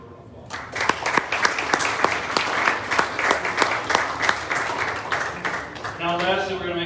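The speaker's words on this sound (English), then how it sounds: "Give them a round of applause." Applause from the audience at a high school boys basketball banquet, a dense round of clapping that stays steady and fairly close, tapering off as a voice starts speaking near the end.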